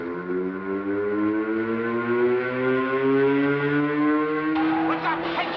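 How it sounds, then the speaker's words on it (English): Prison alarm sirens wail during a cell block riot, their long rising tones sweeping steadily and loud throughout, with a burst of other noise joining near the end. "Joe, what's the sirens for?"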